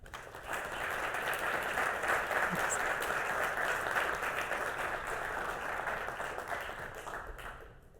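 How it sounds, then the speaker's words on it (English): Audience applause at a scientific symposium in physiology and medicine, a steady round of clapping from a seated crowd that swells quickly and holds for several seconds before tapering off, with no talk over it. "Please give a warm round of applause to Abdallah Dar."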